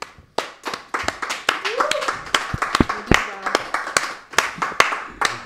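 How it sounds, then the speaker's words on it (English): A small group claps in scattered, distinct hand claps, close and irregular rather than a dense roar, with voices talking over them. "Give yourselves a clap"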